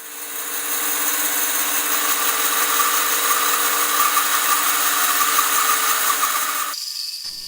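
A Laguna 14 SUV bandsaw motor runs with a steady, fairly quiet hum and whine, holding constant for several seconds before cutting off abruptly near the end, with no one speaking.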